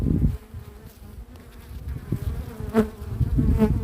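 Honey bees drone continuously at an open hive in an apiary, a close, dense buzzing swarm with a few louder passes near the ear.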